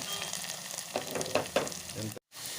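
Onion, green chillies and curry leaves frying in hot oil for vegetable sambar, a soft hiss with a few stirring knocks before a brief moment of silence, then the sizzle resumes.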